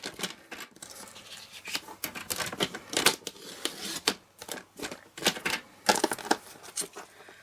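Paper trimmer slicing through card stock for a snowflake shaker gift card, heard as a close series of dry scraping, crinkling strokes and small taps in irregular bursts with short pauses, no talking.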